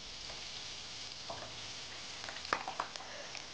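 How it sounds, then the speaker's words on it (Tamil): Onion and capsicum fry quietly in a pan with Chinese seasoning. A soft, constant sizzle is broken by a few sharp scraping clicks from stirring toward the end. "இதுவும் நல்லா உங்களுக்கு ஃப்ரை ஆகிட்டு இருக்கும்"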